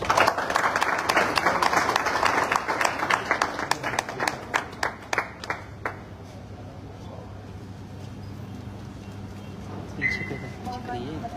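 An audience claps for a Topaz leader, strong applause at first that thins to scattered claps and fades, leaving room tone and a brief voice near the end.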